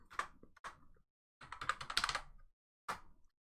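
Typing on a computer keyboard at a desktop setup, heard as close, crisp bursts of rapid key clicks separated by short pauses, with no voices.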